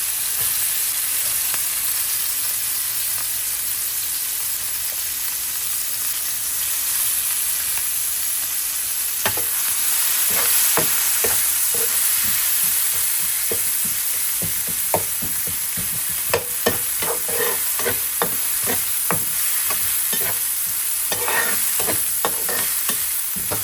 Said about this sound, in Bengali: এখন এগুলো আর একটু কষাবো